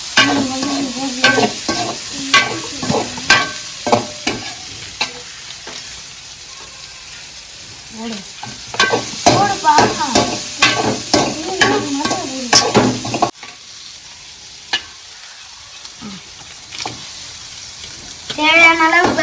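Turmeric, chilli and pepper powder masala being stirred and fried in a pan for a prawn gravy, giving a steady close sizzle with repeated stirring scrapes, broken by short bursts of talk.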